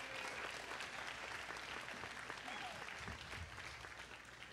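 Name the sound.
audience round of applause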